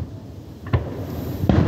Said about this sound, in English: That's probably fireworks down there.